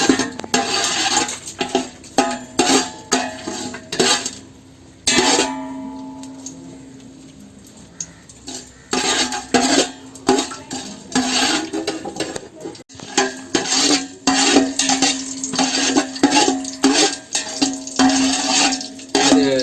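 A pot of ghee on the stove is stirred lightly, giving a close run of irregular metallic scrapes and clinks with a few short pauses.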